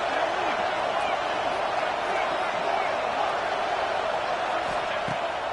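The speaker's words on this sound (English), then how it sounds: "this crowd is turning it up a notch" A stadium crowd at an American football game roars in a steady, loud, unbroken wash of cheering that holds evenly throughout.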